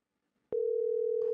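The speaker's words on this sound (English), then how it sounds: "Oh, now it's ringing." A steady ringback tone sounds on an outgoing phone call, starting abruptly after a short silence and holding as one continuous electronic tone, with a brief click near the end.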